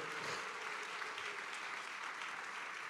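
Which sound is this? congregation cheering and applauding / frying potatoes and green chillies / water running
congregation cheering and applauding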